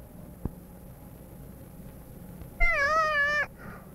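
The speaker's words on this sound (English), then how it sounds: "Cat, scared me." A black cat gives a single drawn-out meow near the end, wavering and fairly clear, after a quiet room tone broken only by one faint knock.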